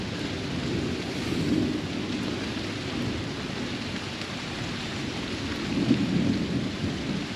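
A morning thunderstorm pours steady rain with low rolling thunder swelling twice, loud and enveloping outdoors, wind mixed in and no voices.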